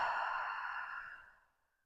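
A single deep exhale, following a breath drawn in through the nose during a home floor workout, is a soft, close breathy rush that fades away over under two seconds, with no talking.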